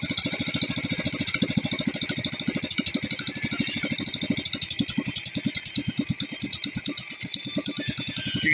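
A racing boat engine idles in the Philippines with a steady, rapid low chugging pulse, close and fairly loud, and a faint high whine above it that runs throughout.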